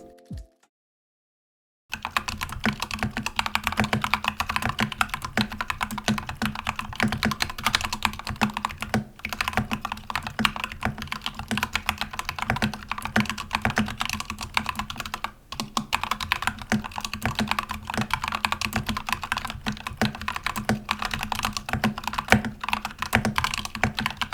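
Someone types steadily on an Epomaker EP84 Plus mechanical keyboard, a dense, continuous run of close, crisp keystrokes with occasional brief pauses, following a short silence at the start.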